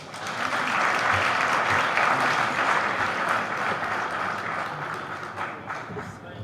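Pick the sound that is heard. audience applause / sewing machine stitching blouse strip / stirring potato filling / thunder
audience applause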